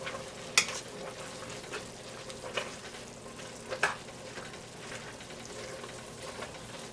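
Collard greens with smoked turkey sizzle and fry in a pan, a quiet steady crackle with a few sharper pops and stirring scrapes.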